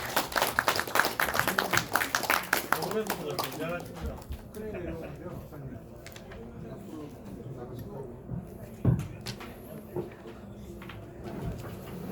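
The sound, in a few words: audience applause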